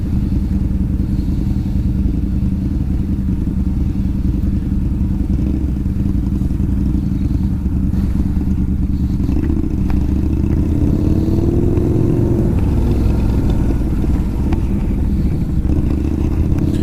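Harley-Davidson V-Rod (VRSC) motorcycle riding through late-afternoon traffic, its engine a steady loud rumble with wind roar throughout, rising in pitch around the middle as it accelerates.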